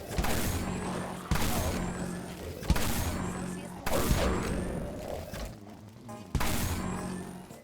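Repeated heavy gunfire from the XR2 Magstorm in the game Dead Frontier, roughly five loud blasts spaced about a second apart, each with a sharp attack and a ringing, metallic tail.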